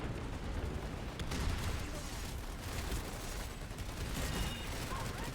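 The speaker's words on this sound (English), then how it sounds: "They're just throwing grenades through the window over and over." Rapid gunfire and grenade blasts from a shooter video game, a dense, continuous barrage of bangs with no pause, loud and close throughout.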